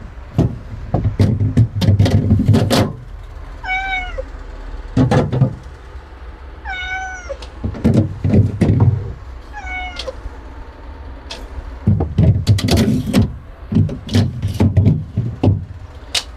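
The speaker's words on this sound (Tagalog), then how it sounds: "Nangungulit yung pusa ko guys." A pet cat meows repeatedly, with four short rising-falling calls spaced a few seconds apart, close by, between loud bursts of knocking and clattering, outdoors near a charcoal grill.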